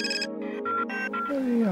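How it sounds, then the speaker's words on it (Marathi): A telephone rings in a domestic TV drama scene, giving several short electronic ringtone bursts in quick succession, followed by a sliding tone at the end. "रजनी का फोन करते मला?"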